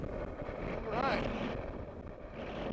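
Wind gusting across an open microphone during drift fishing from a small boat with a light fly rod, a steady low rumble and buffeting that swells briefly near the middle, with faint voice-like sounds underneath.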